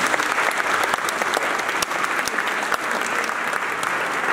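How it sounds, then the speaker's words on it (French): Audience applause at an award ceremony for a Christian comic book prize, heard as a sustained, dense wash of clapping throughout. "que je vous demande d'applaudir"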